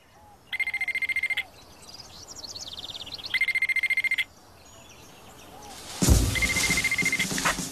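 Telephone ringing indoors in two clear bursts with a pause between, a bright electronic warble, followed by a louder burst of mixed noise.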